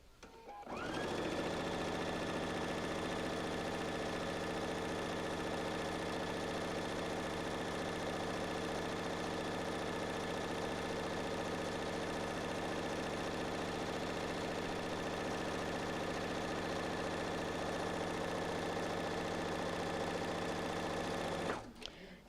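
A sewing machine runs steadily, stitching quilt pieces together in one continuous whirring stretch of about twenty seconds, close and even, starting and stopping cleanly.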